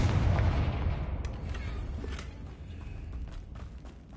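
A fire spell explosion, Confringo, in the video game Hogwarts Legacy: a heavy, close boom that rumbles and decays over a couple of seconds into a lingering crackling tail, with faint clicks and thuds after.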